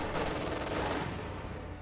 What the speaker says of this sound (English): AT grenade on the half track